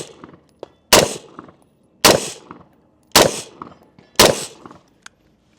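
Four sharp AR-15 rifle shots ring out at roughly one-second intervals, each a loud crack followed by a brief metallic ring and echo, with quiet clicks between them.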